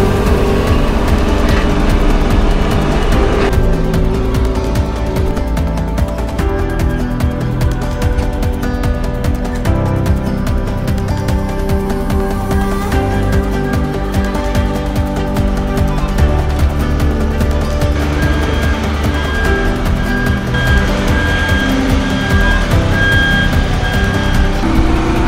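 A telescopic handler towing a harvest trailer into a hangar during a rapeseed harvest, its engine droning steadily and loudly throughout with no pauses.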